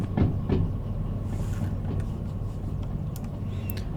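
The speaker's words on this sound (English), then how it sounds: "there's the rear of the train" Train rolling along track in Derail Valley, a steady low rumble with a few rhythmic clacks of wheels over rail joints, continuous and fairly close.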